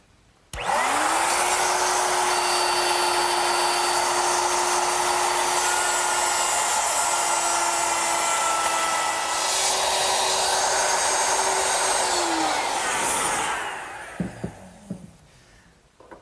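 A power router with a guide collar runs along a guide block, cutting a half-inch dado into wood stock. The motor gives a loud, steady whine that holds for about twelve seconds, then winds down into a few small knocks.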